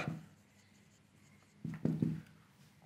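Writing on a board during a geometry lesson on circles, with faint strokes early and a short burst of scratchy marks near the end.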